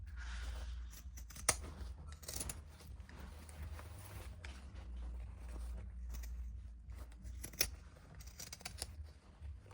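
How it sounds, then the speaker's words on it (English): Pinking shears trimming the fabric seam allowance of a sewn crescent bag, giving a few sharp, quiet snips against a low background hum, close and without talk. "I'm going to use my pinking shears to finish trimming the edge"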